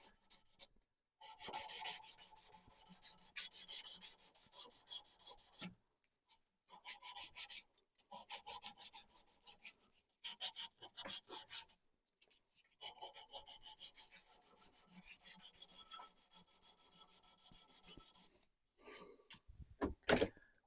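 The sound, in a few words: scraping a wooden turnscrew handle with a razor blade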